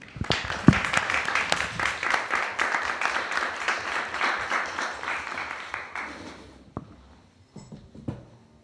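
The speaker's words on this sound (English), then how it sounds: "So let's give a round of applause to Louis." Audience at a talk applauds a speaker with a dense round of clapping that holds steady for several seconds, then fades out, leaving a few stray claps and small knocks near the end.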